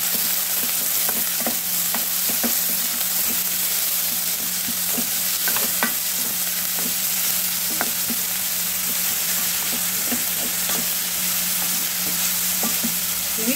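Green chillies and onions frying in a pan for a prawn curry, a steady close sizzle throughout with light, irregular scrapes and taps of a stirring spoon.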